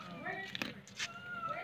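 Cats at a street vendor's stall in hot daytime weather give a couple of short, faint meows amid background chatter and ambient noise.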